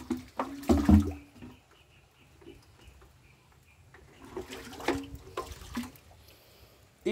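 Water sloshes and splashes inside a heavy bucket being carried, a loud surge at first, then quieter swishing before another burst of sloshing near the end.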